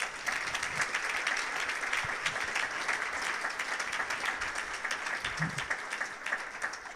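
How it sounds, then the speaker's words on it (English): Steady audience applause at a Hendersonville Chamber luncheon mayoral forum, a dense even clapping from a room of people that holds for the full stretch without any voices. "Thank you to our candidates. Please give them a round of applause."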